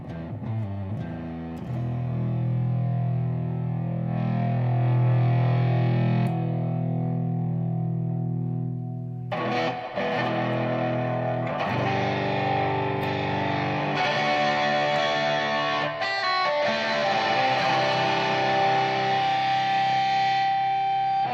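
An electric guitar runs through a Black Arts Toneworks distortion pedal, playing hairy, gritty chords and sustained notes with a nasal, cocked-wah edge, a brief pause midway, then fuller ringing phrases, loud and close with no talking.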